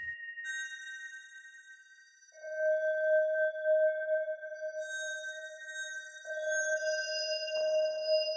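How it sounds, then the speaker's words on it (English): A Vital synth saw wave with randomized harmonic amplitudes plays as a thin, glassy sustained tone with scattered high overtones. It enters quietly, swells into a steady hum, and shifts once near the end. "if we turn the random amplitude up, then what it does, it randomizes each one of these harmonics"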